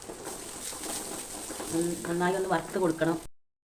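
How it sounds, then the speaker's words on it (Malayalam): Grated coconut, garlic, ginger and shallots fry in coconut oil, giving a steady close sizzle throughout, with a brief voice-like tonal sound rising over the frying in the second half before it cuts off. "തേങ്ങയും വെളുത്തുള്ളി ഒരു ചെറിയ 2 പൊട്ട് ഇഞ്ചി ചുവന്നുള്ളിയും കൂടി വറുത്തെടുക്കുകയാണ്."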